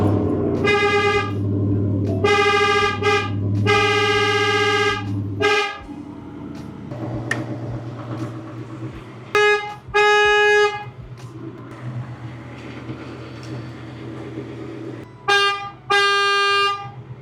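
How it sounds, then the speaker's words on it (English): Replacement horns on a Ford F150 pickup honk loudly in several blasts of varying length, some long and some short with gaps between, against a low engine rumble. "So if we go press our horn button, the horn should work"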